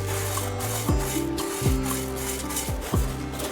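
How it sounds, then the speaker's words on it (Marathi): Puffed rice (murmure) being tipped into a pan and stirred, giving dry, crisp rustling scrapes with a few sharper sweeps roughly every second over a steady low background hum. "हे जे मुरमुरे आहेत ते आपल्याला यामध्ये टाकायचे आहेत"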